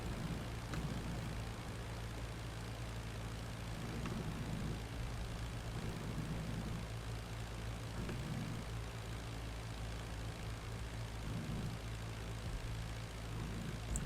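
Propeller aircraft engines drone in the IL-2 Flying Circus flight game, a constant low, dense roar with a faint rhythmic pulsing that runs unbroken and fairly quiet, with no talking.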